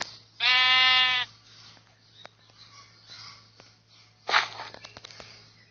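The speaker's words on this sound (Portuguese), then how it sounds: "a ovelha vai cair e vai morrer." A sheep in a Minecraft-style video game gives one loud, quavering bleat up close, followed by quieter game noises and a brief burst of sound near the end.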